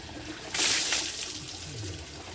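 Water poured from a bucket for a home bucket shower, a brief loud splashing gush that fades into a soft trickle.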